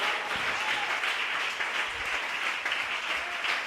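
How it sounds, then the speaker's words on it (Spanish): A church congregation applauds during a sermon, a dense, steady wash of clapping that holds evenly from start to end without anyone speaking over it. "Alguien que aplauda la presencia de Dios. Apláudelo fuerte a Él esta mañana."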